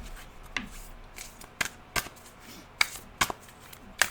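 Oracle cards from an animal dreaming deck being shuffled, a run of crisp riffling snaps and slaps spaced about half a second apart, close and fairly quiet with no talking.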